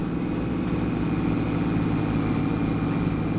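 A tractor engine straining at full power while plowing, a steady loud low-pitched drone with a continuous rumble and no breaks throughout.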